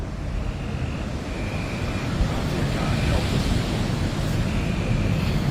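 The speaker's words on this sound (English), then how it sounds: "hear the extremely audible roar caused by the tornado, a phenomenon only present in the strongest tornadoes" A violent tornado produces a continuous, low, ocean-like roar, steady and broadband throughout with no voices, rising slightly in intensity partway through.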